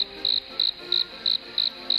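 A cricket chirps in a steady, evenly spaced pulse, a high trill repeating about every third of a second against faint background hiss.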